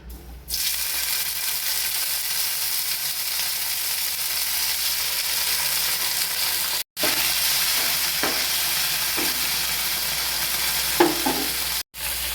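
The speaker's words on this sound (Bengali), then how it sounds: "গ্যাসের ফ্লেমটা সিমে দিয়ে জল ঝরিয়ে রাখা পনিরগুলো এতে দিয়ে দিচ্ছি।" Drained paneer fries in hot oil in a pan on a low flame, making a loud, continuous sizzle with two very brief breaks and a few light stirring taps.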